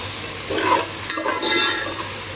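Finely chopped onion and vegetables get stirred in a pan, a short close scraping and rustling over a soft sizzle with a couple of louder spatula strokes.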